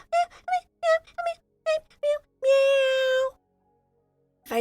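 A series of short cat meows in quick succession, followed by one long, drawn-out meow, then silence; close and clear.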